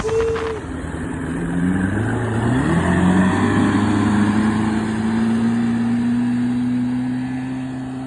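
Classic Boston Whaler boat's outboard engine, freshly fitted with a new battery and fed through a fuel water separator, starting and revving, its pitch rising steadily and holding a strong, close drone.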